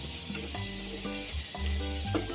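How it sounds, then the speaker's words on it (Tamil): Onions and tomatoes sautéing in a pan give a steady, close sizzling hiss beneath louder tonal background music. "வெங்காயம் தக்காளி நல்லா வதங்கட்டும்."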